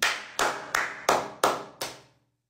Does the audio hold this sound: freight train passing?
no